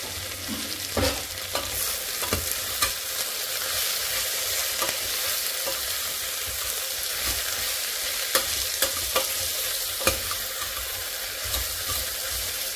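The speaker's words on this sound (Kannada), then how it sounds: "ಟೊಮ್ಯಾಟೊ ಮತ್ತು ಈರುಳ್ಳಿ ಇದಕ್ಕೆಲ್ಲ ಎತ್ತಬೇಕು ಅಷ್ಟು ಉಪ್ಪು ಹಾಕ್ಕೊಳ್ತಿದ್ದೀನಿ" Chopped tomato and onion frying with salt in a pan as the base for a rustic mutton gravy: a loud, continuous close sizzle with repeated scraping stirs and small pops throughout.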